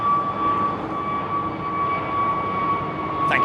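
Delta Boeing 767-400 jet departing London Heathrow, a steady broadband engine roar with a sustained high whine running through it, heard alone at moderate loudness.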